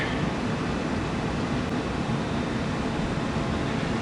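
Steady, continuous rumbling noise of a train rolling out of Bytom station, Poland, broadband and constant throughout with no distinct clanks or horn.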